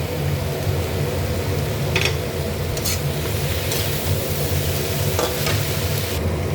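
Nate shak (amaranth greens) frying in a pan with eggplant, potato and whole green chillies, giving a steady continuous sizzle with occasional stirring clicks and no talk.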